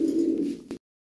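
A toy-type Lahori pigeon, a new adult male, gives one close, clear coo lasting under a second that swells and then stops sharply into silence.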